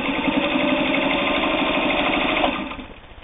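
A Singer 301 Slant-O-Matic full-size sewing machine runs steadily with a continuous mechanical whir at a constant loud level, then slows and fades toward the end, with no talking.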